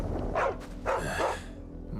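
A dog in the Final Fantasy XVI video game gives three short barks in quick succession, close and clear over a low steady game background hum.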